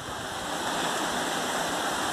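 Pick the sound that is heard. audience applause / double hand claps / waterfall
waterfall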